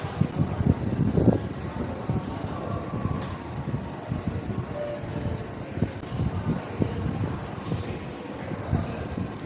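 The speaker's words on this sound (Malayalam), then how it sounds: "നശിച്ച ഫാനിൻ്റെ കാറ്റ്" A large fan at a Mumbai bus stop blasts strong wind across the microphone, giving a continuous low rumbling roar with uneven buffeting gusts and no talk.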